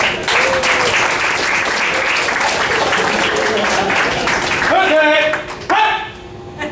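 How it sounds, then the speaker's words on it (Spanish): Studio audience at a Spanish-language talk show claps loudly and steadily for several seconds, then fades as music stings and tones enter near the end. "¡Démele un aplauso!"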